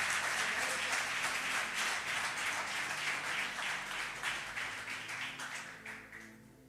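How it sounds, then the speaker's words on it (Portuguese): A church congregation claps together after a call to applaud Jesus louder, a dense, sustained wash of applause that holds steady, then thins and fades over the final seconds. "E se é para aplaudir Jesus, aplaude mais forte."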